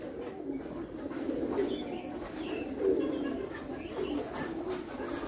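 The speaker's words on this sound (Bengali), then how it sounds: "এই দেখুন আমার বাড়িতে কত কবুতর" Several pigeons kept at a house cooing in soft, repeated low burbling calls that overlap, fairly close, with faint chirps and rustling behind them and no talking.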